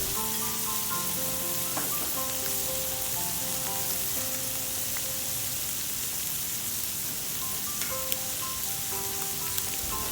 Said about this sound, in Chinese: 炒到猪肉末熟，然后再放入我们煮好的泡面